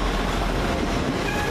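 Steady low rumble of a passenger train rolling past at Crewe station, continuous and fairly loud with faint clatter, no voices.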